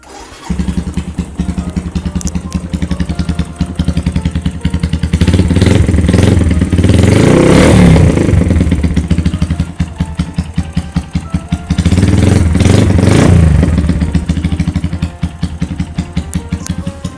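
A 2017 Stallion Centaur 250 motorcycle fires up close by, then its engine settles into a rapid, loud thumping idle broken by two long revs that swell and drop back.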